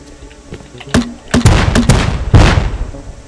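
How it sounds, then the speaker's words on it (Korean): Several sharp explosive bangs and thuds from grenade launcher fire in the video game Rust, loud and punchy, arriving in a quick irregular burst. "유탄 발사기 소리인데 저건?"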